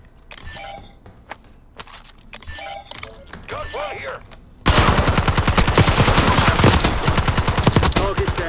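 Rapid automatic gunfire in Call of Duty erupts loudly and continuously in the second half, after a stretch of scattered shots, voices and effects.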